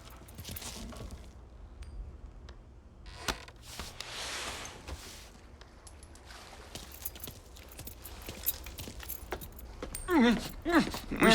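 Keys jangle in a sequence from the video game Mafia III, a loose metallic rattling that runs through the clip amid other scattered game sounds and noises, growing louder near the end.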